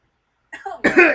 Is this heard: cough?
yes